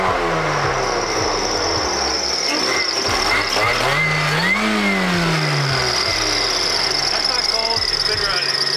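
A supercharged 1.6-liter Mazda Miata engine runs loud and close, its idle rising and falling through a few revs, while people talk over the steady mechanical drone.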